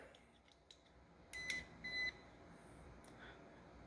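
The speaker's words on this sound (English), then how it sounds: "See how it's lighting up and it's making a beeping noise?" Two short electronic beeps in quick succession from a small voltage tester touched to a live wire, close and fairly faint over a quiet background hiss.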